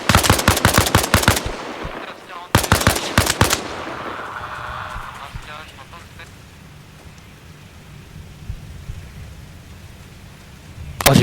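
Rapid machine-gun bursts in a video game, loud and close, two dense volleys early on followed by a quieter stretch of distant rumbling and scattered shots, then another burst at the very end.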